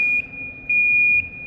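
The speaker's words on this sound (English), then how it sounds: "the buzzer stops, but I can't reset the alarm" Alarm buzzer on a Sancassiano PLT120 120-litre mixer signalling an automatic powder dosing timeout: a loud, steady high-pitched electronic tone pulsing in roughly half-second on-off bursts, alone over a faint low background hum.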